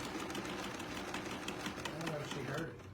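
A sewing machine stitches a string-quilted eyeglass case with a steady whirring, rapid mechanical chatter, faint and close, while a person talks over it.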